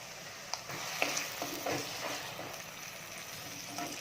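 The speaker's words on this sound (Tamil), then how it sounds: "அரைச்சி வச்சுருக்கிற தக்காளி விழுது போட்டுக்கலாம்" Ground tomato puree sautés in a pan over ginger-garlic paste for a kurma side dish for chapati: a soft, continuous sizzle broken by several light stirring scrapes and taps, close by and without speech.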